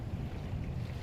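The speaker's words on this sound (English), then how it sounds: "I can't hear you, it's windy." Wind rushes and buffets steadily over open water from a small fishing boat, a low, broad roar, close and unbroken for about a second.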